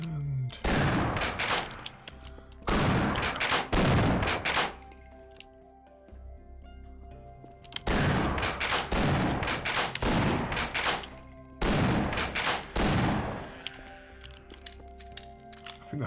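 Shotgun blasts in the Half-Life video game: several loud, sharp booms come in clusters, separated by stretches of quieter mechanical ambience, close and dominant.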